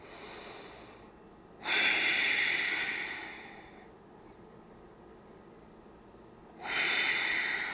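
Deep breaths during a yoga boat pose in a morning movement routine: two long, close, airy exhalations separated by a quiet pause, with no talking.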